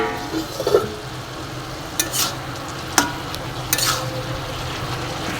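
Egg and snake gourd frying in a pan with a steady sizzle, stirred with a spatula that gives several distinct scraping knocks against the metal over the continuous hiss.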